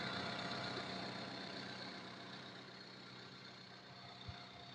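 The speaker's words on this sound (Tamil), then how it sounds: "என்ஜின் ரன்னிங் பாருங்க மக்களே, ரொம்ப ஒரு ஸ்மூத்தான கண்டிஷன்ல தான் இருக்கு." A Ford Figo Titanium petrol engine idles in a smooth, steady low hum with faint higher whine, heard close and alone, holding an even level with one brief knock near the end.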